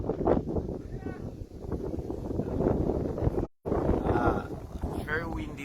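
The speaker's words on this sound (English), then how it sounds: "It's very windy, folks." Gusty wind roars steadily across the microphone with low rumbling buffets, while people talk and move around nearby.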